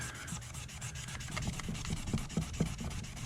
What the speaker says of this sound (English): I'm just kind of sanding that top layer.